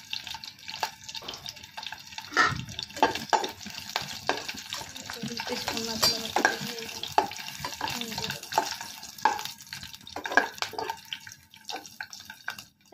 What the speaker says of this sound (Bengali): এখন আমরা এগুলোকে ভেজে নিচ্ছি।